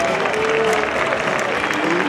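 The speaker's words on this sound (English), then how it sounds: "Everyone give her a nice big round of applause." A crowd at the SeaWorld San Diego killer whale show applauds, a dense, steady wash of clapping filling the short moment, with some voices mixed in.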